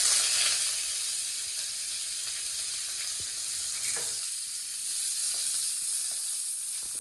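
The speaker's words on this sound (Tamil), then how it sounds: "தூதுவளை போட்டு நல்லா வதக்கிக்கணும்." Thuthuvalai (Solanum trilobatum) leaves sautéing in a hot pan for rasam give off a steady, close sizzling hiss that runs the whole time, with occasional faint stirring clicks and no talking.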